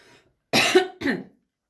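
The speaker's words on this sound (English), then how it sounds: "I'm going to just have a cough" Two sharp coughs in quick succession, close and loud, following a brief moment of quiet.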